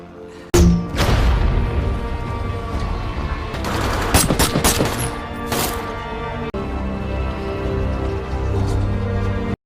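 Loud, sustained gunfire in an action film fight scene, with bursts of rapid shots, sharp cracks and booming impacts that carry on throughout without any speech.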